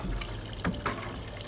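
Water pours into an LG washing machine drum, a soft steady rush of filling water with a few small splashy surges, heard close and fairly quiet.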